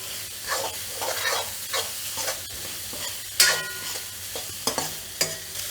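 Onions frying in a pan for Manchurian, with soft sizzling under repeated scraping and stirring strokes, moderately loud and close, with no voices.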